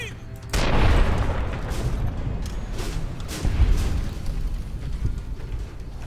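Magnum gunfire in Fallout: New Vegas, with a loud booming shot at the start that rolls into a sustained rumbling roar, then a second heavy blast midway, dense and close throughout.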